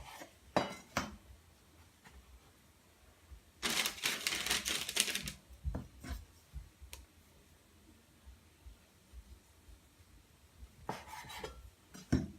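A knife chops candied fruit on a cutting board in a kitchen, giving sharp, fairly close taps: a few scattered knocks, then a dense burst of rapid chopping, more isolated taps and a short final flurry.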